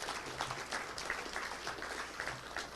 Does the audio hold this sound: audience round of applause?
yes